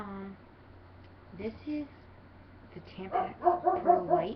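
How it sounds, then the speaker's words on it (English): A pet dog barks and yips a few times in a room, short bursts that grow louder toward the end, with someone talking nearby. "Sorry if you heard that, that's my dog."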